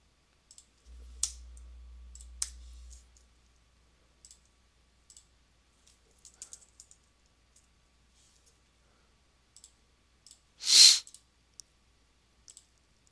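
Computer mouse clicks, a few sparse, close, quiet taps spread out over a quiet room, with a brief low hum early on and one louder burst of noise near the end.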